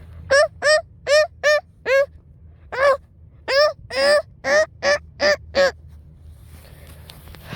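Wild ducks, seen less often than mallards, give a series of about a dozen loud honking calls in two bursts, clear against a quiet low background with no talk.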